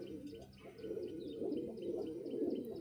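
Young Malwai pigeon giving a steady, low, rolling coo that swells slightly in the latter half, close and unbroken, with faint chirpy ticks above and no clear talk.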